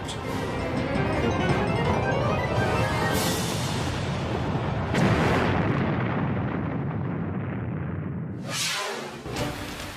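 A rocket explodes after a 17-foot-long crack in one of its boosters, producing a loud, sustained broadband roar and rumble that swells and fades over several seconds.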